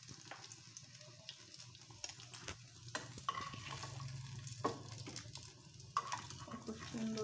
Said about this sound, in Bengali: আমার পাকোড়াগুলো ভাজা হয়ে গেছে ফুলকপির, আমি এখন একটা একটা করে উঠিয়ে নিচ্ছি।